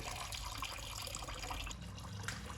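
Water-contaminated diesel drains from the VW engine of an abandoned rail buggy, a faint, steady liquid trickle close by with no talk over it.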